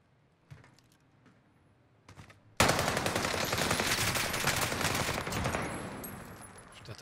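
In the video game Warzone, a few scattered single shots and clicks are followed by a sudden, loud, sustained burst of rapid automatic gunfire that rattles on for several seconds and slowly eases.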